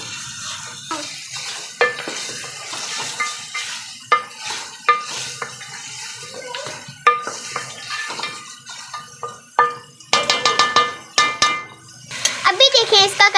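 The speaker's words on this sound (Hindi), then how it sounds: "अभी हम इसको करेंगे फ्राई जब तक इसका कलर चेंज नहीं हो जाता" Mutton for aloo gosht fries in a pot while a utensil stirs and scrapes it in repeated bursts, with sizzling and clinking of metal on the pan, loud and close throughout.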